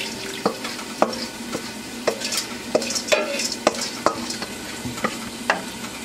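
A spoon stirs rice and peas in a pot, sharp regular clacks against the pot wall roughly twice a second over a low simmering hiss, close and alone.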